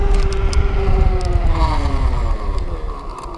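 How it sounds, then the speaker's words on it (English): Nanrobot electric scooter's electronic braking system engaging during a hard stop, a loud whining motor tone that sweeps downward over a steady low rumble of wind and road noise. "could you hear the EBS kick in shortly after I hit the brakes?"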